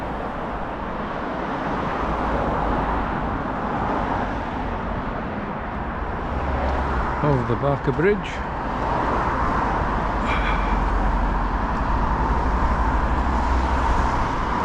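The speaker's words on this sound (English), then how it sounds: "And the traffic now." Road traffic in Workington rumbles past near Barker Bridge, a steady wash of passing cars and wind buffeting the microphone. Someone speaks briefly over the noise.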